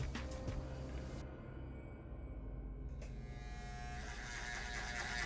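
A sharpened Andis T-Outliner barber clipper cuts hair close to the skin with a steady, near electric buzz. Its tone shifts slightly as the blade meets hair, then runs on continuously.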